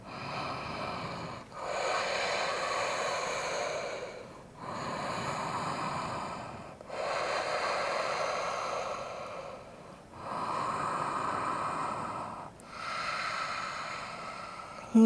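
Slow, deep breaths during a yoga class held in downward dog, each inhale and exhale a long airy rush, about five full cycles, steady and close, with no speech.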